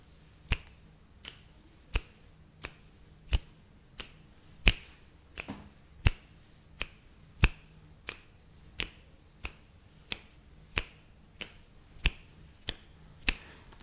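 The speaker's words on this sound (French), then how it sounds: "je vais faire 20 claquements de doigts" Twenty crisp finger snaps, close and evenly spaced at roughly one every two-thirds of a second, heard alone against a quiet background.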